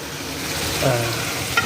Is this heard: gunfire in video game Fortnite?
no